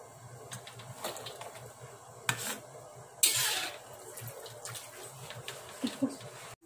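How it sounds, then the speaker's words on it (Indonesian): Spinach and carrots are stirred and sautéed in a pan with soft scraping and light clinks of the utensil against the metal, plus a brief louder hiss partway through, all fairly quiet. "Aduk-aduk sayur, ditumis sampai wortel dan sayur bayamnya matang"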